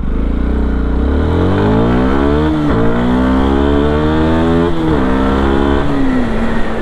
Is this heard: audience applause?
no